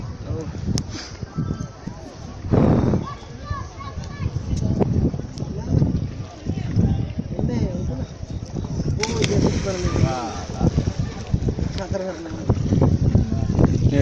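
Gusty wind on a boat outing in the Shillong and Cherrapunjee area of Northeast India buffets the microphone with low rumbling blasts, strongest in a few surges, while several people talk over it.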